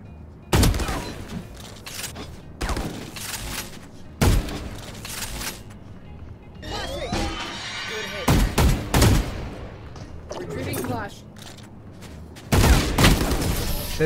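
Gunfire from the tactical shooter Valorant: several sharp, loud bursts of shots spaced a second or two apart, with mechanical clicks and ability effects in between and a steady game backdrop.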